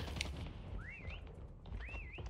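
Whistle taunt in the Prop Hunt video game: two rising, swooping whistle calls about a second apart, fairly faint over low game background noise.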